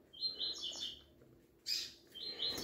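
A coleiro (double-collared seedeater) chirps in two quick bright bursts of high tweets separated by a short pause, fairly faint and with no talk.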